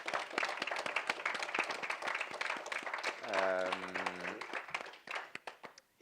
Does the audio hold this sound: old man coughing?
no